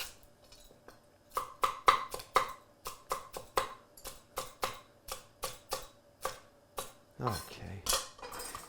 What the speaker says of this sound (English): I like the chopping method when I'm cutting up vegetables